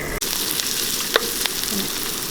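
Oil sizzles and crackles steadily in a pan while frying eggplant and tofu, with a brief stir or clink partway through.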